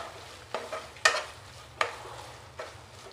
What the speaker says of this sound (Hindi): फिर इसको अच्छा से चलाएंगे